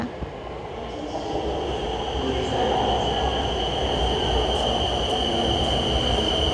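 BTS Skytrain at a Bangkok station, a steady loud rumble of the train running along the platform with a sustained high whine, building slightly and holding.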